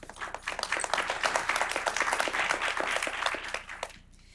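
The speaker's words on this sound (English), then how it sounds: "So a round of applause for Marcus." A crowd applauds a community event speaker introduced as a former primary school teacher, dense steady clapping lasting about four seconds before it cuts off sharply.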